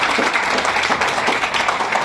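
Audience in a hotel meeting hall clapping during a guidance talk, a short, steady, fairly close burst of dense applause that is heard alone.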